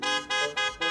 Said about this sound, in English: except for the blaring car horns outside